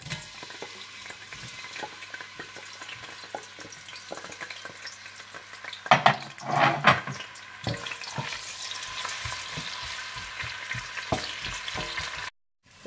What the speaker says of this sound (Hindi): इसके बाद आप देसी घी गर्म कर लें और इसमें प्याज डालकर इन्हें आप गोल्डन ब्राउन कर लें।